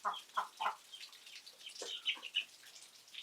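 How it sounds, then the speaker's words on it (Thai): Several hens clucking nearby in short bursts, with a few sharper calls scattered through the clip. "ชุดพวกนี้ก็เป็นไก่ชุดทำสายนี่แหละครับ"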